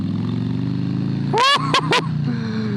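A 2021 Harley-Davidson Low Rider S rumbles steadily while riding, then blips its revs in a quick burst and two short pulses as it downshifts, with a steady engine drone underneath.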